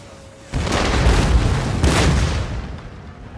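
A deep, heavy boom erupts and rolls out over a couple of seconds, followed by a second blast, loud and rumbling cannon fire in the game Napoleon: Total War.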